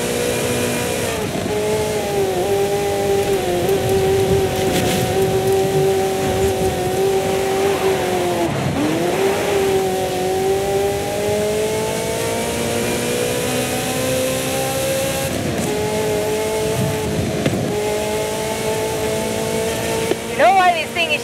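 A Ferrari engine in Forza Horizon 5 runs loud and steady throughout, with a constant high mechanical drone and brief dips and surges of revving, while a voice talks over it.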